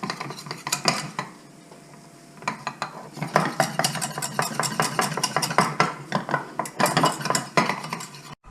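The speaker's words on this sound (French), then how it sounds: "je fais mon roux comme pour une béchamel" A roux of butter and 15 g of cornflour stirred in a pan, the utensil scraping and clinking against the metal in quick rhythmic bursts over a faint sizzle, with a pause early on before steady stirring resumes; no talking.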